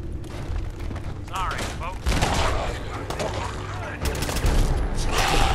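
Gunfire and a booming grenade explosion in Fallout 4 Far Harbor, with heavy rumbling bursts and crackling impacts throughout, loud and close, while a person talks over the action.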